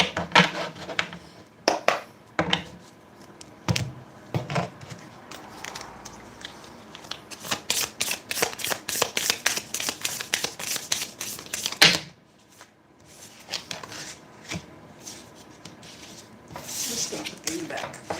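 Tarot cards are shuffled in repeated bursts of crisp riffling and flicking, close and fairly quiet, with short pauses between rounds and some soft handling noise.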